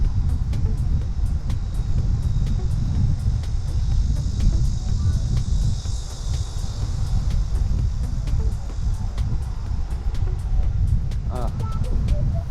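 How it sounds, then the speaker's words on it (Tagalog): Strong wind roars and buffets in continuous gusts during a bicycle ride from Seoul to Daebudo, Korea, with a low rumbling rush and scattered clicks and rattles throughout. "Yan, lakas ng hampas ng hangin."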